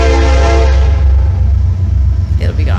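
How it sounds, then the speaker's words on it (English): A dense freight train rumbles past near a wool mill, with a heavy low roar throughout and a loud horn blast at the start that fades as the cars go by. "Here comes the train."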